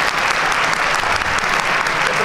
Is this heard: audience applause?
yes